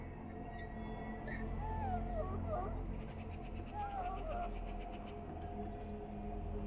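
An injured hound in the video game Dragon Age Origins whimpers and yips in thin, wavering cries over a low ambient hum, fairly faint.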